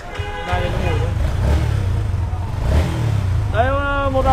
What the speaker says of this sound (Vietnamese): Đấy một đầu em nghe tiếng nổ nha, anh em cảm nhận tiếng nổ này.